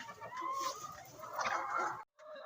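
Laying hens on a poultry farm cluck and murmur together in a close, busy flock, a continuous chorus of clucks that breaks off briefly near the end, with no talking.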